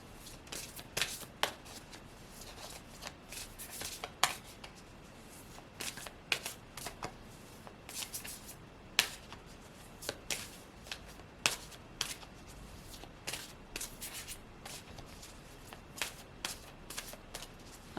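Tarot cards being shuffled by hand, soft riffling and sharp flicking bursts repeating irregularly throughout, close and fairly quiet against a hushed room.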